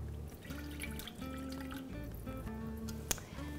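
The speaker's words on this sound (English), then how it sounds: "We will begin by adding 1 cup of warm water" Warm water pours into a bowl for whole wheat roll dough, a soft trickling, burbling flow with a few drips, quiet and close, no talk.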